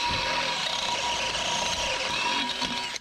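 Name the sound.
drilling holes with a Harbor Freight step drill bit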